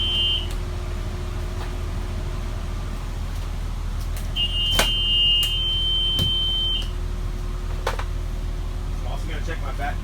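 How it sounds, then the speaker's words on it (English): Back-door buzzer on a bus during a pre-trip inspection: a few sustained electronic beeps of differing lengths over a low engine rumble, with occasional clicks and faint speech. "Check my back door to make sure the buzzer works and that the door slide holds in place."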